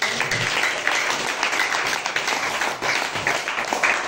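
A congregation at a church service claps steadily and loudly, a dense wash of applause that keeps going from start to finish.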